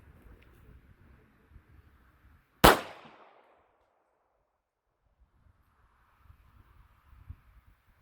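A single sharp .380 pistol shot fired at an old front door from five feet away, loud and sudden with a brief decaying tail, amid quiet outdoor wind and rustle.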